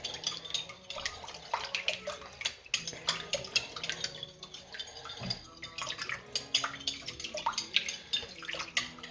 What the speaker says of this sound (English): And now just stir that in and dissolve it into the warm water.